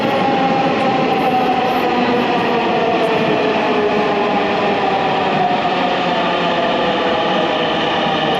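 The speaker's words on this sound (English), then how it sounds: "If you want to take the metro when it's not busy" Riding on board a Dhaka metro train: a loud, steady rumble fills the carriage, with a constant whine and rolling noise running without a break and no voices.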